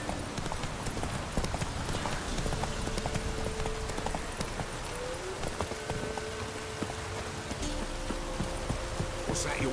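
Roach, the horse in The Witcher 3, trots along with steady rhythmic hoof clip-clops that stay close and continuous, over a soft rain-like ambient hiss, with no one speaking.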